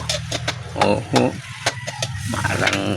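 Mixed market vegetables sautéed with a little pork in a pan, sizzling steadily while a utensil scrapes and stirs in short strokes, under a voice talking.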